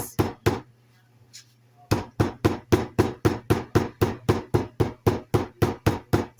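Steak meat is pounded with a hammer on a kitchen counter: two sharp thuds, a short quiet gap with a low hum, then a long steady run of about sixteen evenly spaced loud blows, close and without talk.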